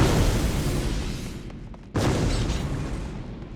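A video game explosion roars as a loud, dense, sustained blast of noise, cutting out for a split second partway through before surging back and slowly fading.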